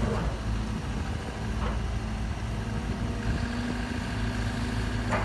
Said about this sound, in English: This digger is powered by a four-cylinder Perkins engine